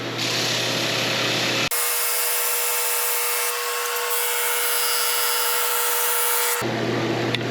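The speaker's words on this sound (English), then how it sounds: "Whoa. Dust collector." A dust collector runs while resawn pallet wood is sanded on a Flatmaster drum sander. The loud, dense roar changes character midway as the drum engages the board, then returns to the steady motor noise, with no talking.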